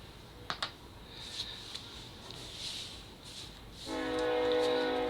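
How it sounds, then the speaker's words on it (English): A train runs on a railway track a couple of blocks away, a faint distant rumble with a few soft clicks and knocks, then a steady sustained whistle-like tone swelling up near the end. "And there goes the train."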